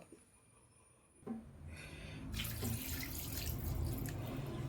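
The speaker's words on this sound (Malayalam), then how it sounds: "പിന്നെ വെള്ളം ഒഴിക്കട്ടെ കേട്ടോ" Water starts pouring into a clay cooking pot after a brief quiet moment, building into a steady, splashing stream that continues to the end.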